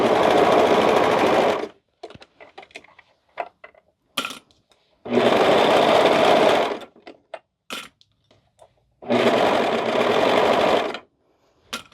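A serger sewing machine trims and stitches fabric for a cardigan, its blade cutting just ahead of the needles, in three loud sustained whirring bursts of about two seconds each, separated by quiet handling noises.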